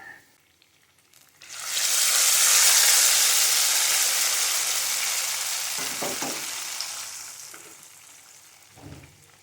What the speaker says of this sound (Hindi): अब ये जो प्याज है इसको ऑयल समेत हम दलीम के ऊपर डाल देंगे।